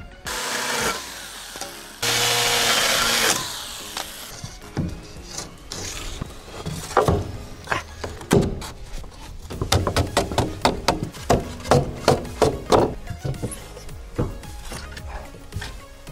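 A chainsaw with an oiled chain cutting wood to size, starting with a brief burst of engine noise, then a run of sharp rhythmic bursts from close by, ending in quieter intermittent sounds.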